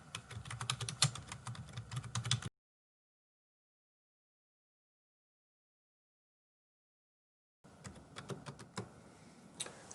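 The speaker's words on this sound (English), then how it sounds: "So I'm just going to try to type this as fast as I can for you." Fast typing on a computer keyboard comes through as rapid, dense clattering keystrokes in two bursts separated by a long silence, close and fairly quiet.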